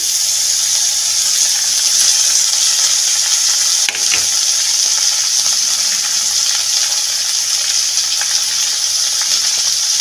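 Loud, steady sizzling of potatoes frying in a pan, with one sharp clatter partway through as cut eggplant drops in and the hiss carries on.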